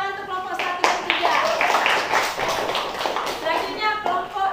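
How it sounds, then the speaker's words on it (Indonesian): Students in a high school classroom clap their hands in a dense burst of applause, close and loud, with children's voices chattering through it. "tepuk tangan untuk kelompok 1 dan 3."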